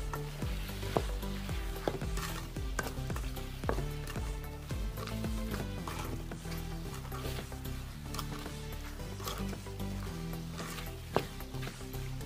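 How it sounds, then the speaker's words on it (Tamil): Spices and chopped bottle gourd sauté in hot oil for a dry fish gravy, a steady close sizzle broken by repeated sharp scrapes and stirring knocks of a spoon against the pan. "இதெல்லாம் சேர்த்து நம்ம இப்போ ஒரு வதக்கு வதக்கிக்கலாம்."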